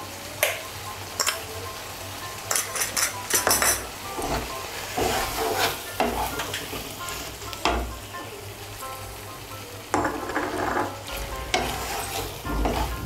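Sugar and green chillies are stirred into a simmering taro curry in a pan, with spoon scrapes and clicks over a constant low sizzle, heard close up with no voices.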